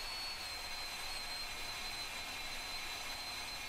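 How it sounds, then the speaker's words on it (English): Metal-cutting bandsaw with a slightly blunt blade, running with a steady high-pitched whine and even hiss, continuous and close, no voices. "But I've got my bandsaw handy,"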